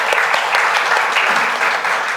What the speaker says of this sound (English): Can we once again have a big round of applause for our performers?